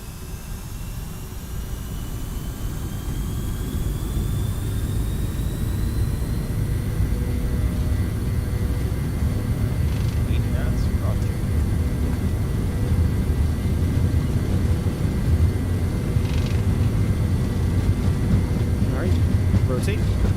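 Simulated airliner engines in Microsoft Flight Simulator spool up from idle to takeoff power, a low steady roar with a rising whine that builds and then holds loud and constant.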